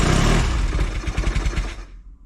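A Velocette motorcycle engine, cold and with its carburettor not yet tuned right, runs loud and close with a rough, uneven beat, then sputters through a few slowing pulses and stalls into silence.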